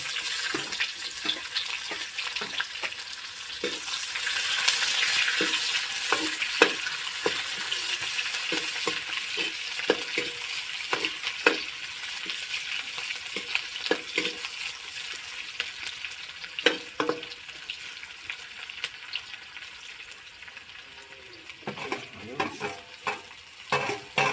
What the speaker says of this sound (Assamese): এইখিনি তেজপাত তেলতে দি দিছোঁ তাৰপিছতে পিঁয়াজ